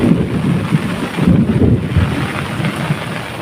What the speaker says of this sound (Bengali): রাত থেকে বৃষ্টি পড়ছে।